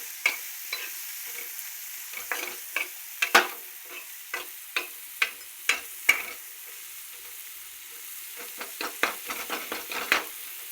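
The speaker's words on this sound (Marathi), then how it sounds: "हे बघा कशी भाजली मिरची" Green chilies roasting in a pan with a little salt, heard as a steady series of sharp crackles and pops, close and fairly quiet, spaced irregularly over a faint sizzle with no talking.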